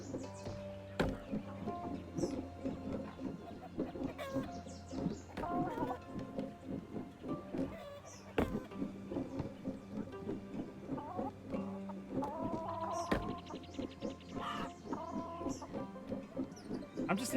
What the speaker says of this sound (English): I'm just enjoying the chicken noises